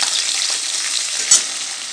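Chopped ginger sizzling in hot mustard oil in a kadai for a mixed tarka, a steady close hiss with one brief clink partway through, no voices.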